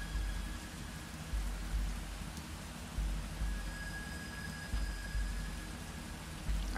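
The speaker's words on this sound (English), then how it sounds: "Oh, no, it's raining." Steady rain hisses in the video game Overland, a constant dense patter with low rumbling swells that suggest distant thunder, heard alone without talk.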